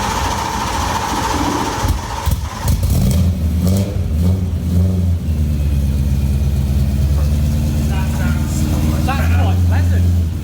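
An E30 BMW M3 swapped with an S65 V8 revs through a custom exhaust, a loud, deep, sustained engine drone with rising and falling throttle blips, while people talk over it.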